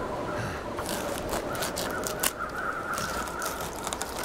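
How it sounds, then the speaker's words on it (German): Crows in the survival game The Long Dark caw in a short run of harsh calls, faint and distant over a low ambient wash. "Ah, jetzt sind die Krähen da"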